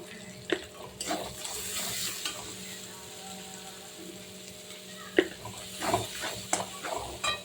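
Spices stirred as they fry in a pan with salt and turmeric for a pabda fish curry: a low sizzle with intermittent scrapes and knocks of a spatula, close and without talk.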